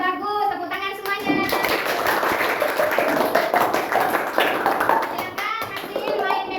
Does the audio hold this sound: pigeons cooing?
no